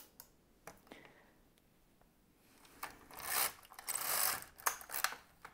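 A knitting machine carriage slides across the needle bed in a rising rushing sweep with rapid mechanical clicking, close and moderately quiet, preceded by a few sparse clicks.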